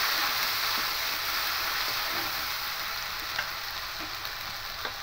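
Ginger and green chilli paste sizzles and fries in hot oil while being stirred, a steady close crackle with occasional soft scraping taps of the utensil, no voices.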